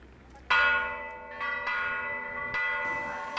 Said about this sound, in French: on a toujours l'impression que les cloches des églises sud-américaines sont fêlées